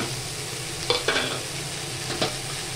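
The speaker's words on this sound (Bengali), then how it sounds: "তো এটা ভাজা ভাজা হয়ে গেছে, এবার পেঁয়াজ কুচিটা দিয়ে দিলাম।" Potatoes and freshly added chopped onion fry in a pan with a constant crackling sizzle, broken by a few quick clacks of a spoon stirring, close up and without speech.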